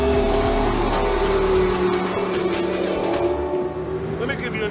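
McLaren P1 hybrid supercar accelerating hard at speed, a loud continuous engine roar rising in pitch up close, then easing off near the end.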